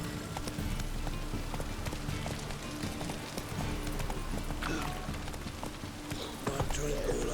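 Hooves of Roach, a horse in The Witcher 3 on Xbox, clip-clop in a steady galloping rhythm throughout, fairly close and continuous over a low ambient bed, with a voice speaking briefly.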